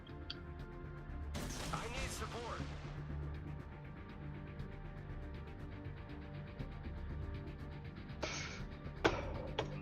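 Naval artillery broadsides in World of Warships, a clan wars match: a heavy booming salvo with crashing impacts, then more sharp bursts near the end, over a low game rumble with voices talking.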